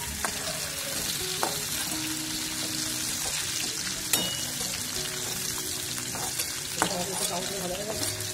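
Cauliflower pieces fry in hot oil in a pan with a continuous close sizzle and bubbling, broken by a few sharp clinks of a spatula stirring.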